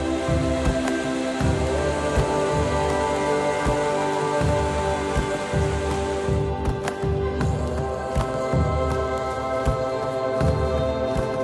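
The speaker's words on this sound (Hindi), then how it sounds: "सो अभी हल्की हल्की बारिश हो रही है" Light, steady rain patters on surfaces outdoors in Kashmir, a continuous soft hiss with scattered drip ticks and no voices.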